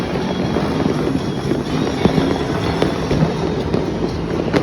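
New Year 2025 fireworks, a loud continuous rumble of distant bursts with scattered sharper pops and crackles layered over heavy wind-buffeted noise.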